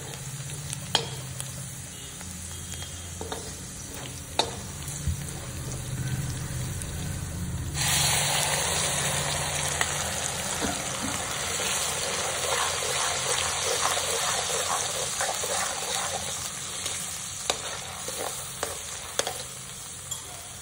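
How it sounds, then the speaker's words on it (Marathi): Onion and tomato puree frying in a pan for a spicy mutton curry, a steady loud sizzle that bursts in partway through and continues with stirring scrapes, no talking. "कांदा टोमॅटोची प्युरी घालणार आहोत आपण आता."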